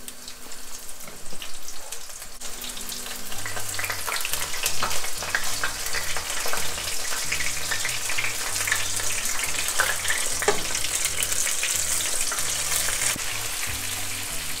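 Deep frying of netholi whitebait fish, a steady crackling sizzle of hot oil that runs throughout with dense popping bubbles, close and fairly loud, with no talking.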